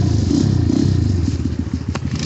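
An XMOTOS dirt bike rides a leaf-covered trail, its engine loud and close with a throbbing, pulsing drone and clattering, crackling texture throughout.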